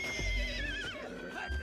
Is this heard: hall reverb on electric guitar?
no